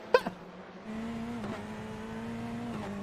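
Chevrolet Corvette GTE race car at Sebring in a racing video game, engine droning steadily at moderate loudness with a sharp click near the start and brief gear-shift dips in pitch partway through.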